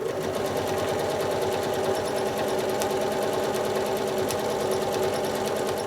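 A sewing machine stitches straight lines across a nine-patch quilt block, running steadily at close range with a fast, even mechanical hum and rapid needle rhythm throughout, no voices.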